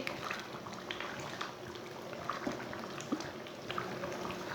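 Potato and masoor dal simmering in a pot while a spoon stirs it, giving a quiet, steady bubbling with small scattered pops and soft spoon clicks throughout.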